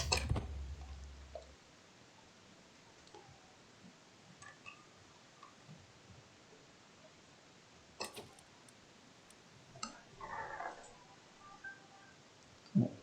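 A phone sounds in a quiet room, giving a few short scattered tones and clicks separated by stretches of near silence, with no talking.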